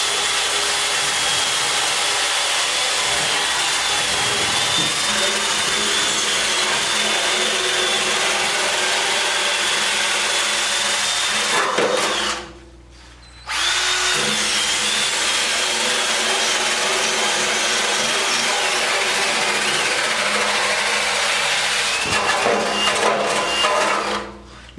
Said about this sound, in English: with my drill, just get all the surface rust out and then sand it